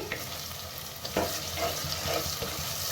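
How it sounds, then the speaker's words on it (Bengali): Tomatoes sauté in a pan for a beef chui jhal curry, with a steady close sizzle under repeated spatula stirring and scraping strokes, no voices. "টমেটোগুলাকে একটু কষাবো"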